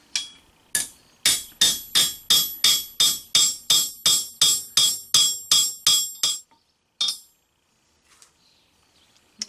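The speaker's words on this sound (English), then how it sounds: "You keep peening until it just feels like you're done." Sharp, ringing hammer strikes peen stainless steel pins in a fillet knife handle, about sixteen evenly spaced close blows in a steady rhythm, then a pause and one last isolated strike.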